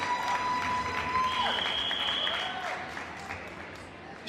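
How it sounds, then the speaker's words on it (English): Audience applause at a ward Democrats candidates' forum, steady clapping from a crowd under a sustained whistle-like tone and some voices, tapering off toward the end. "Will you join me in just giving Congresswoman Norton an applause"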